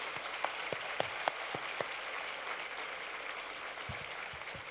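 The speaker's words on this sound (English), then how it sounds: "One last round of applause for our 2017 Women Leadership Award honorees." Applause for 2017 Women in Leadership Award honorees at the Kravis Center: a continuous wash of crowd clapping with a few sharper individual claps near the start, steady and moderately loud throughout.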